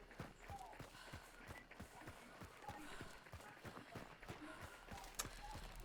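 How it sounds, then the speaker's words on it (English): A horse in a video game trots along in a steady, even clip-clop of hooves, moderately close, with faint talk and game sounds underneath. "Good old horsey."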